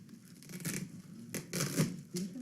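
Tape pulled and peeled off a plastic bag, a few close, short tearing and crinkling bursts with brief pauses between them, no talking.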